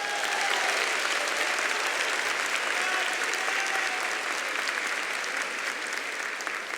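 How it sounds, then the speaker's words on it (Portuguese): A church congregation claps together after a priest's sermon, dense and sustained applause filling the room evenly for several seconds without a break. "Ele merece um aplauso, nosso Deus."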